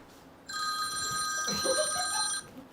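A telephone rings for an incoming call, a steady electronic trill running for about two seconds, loud and close, with faint room noise around it.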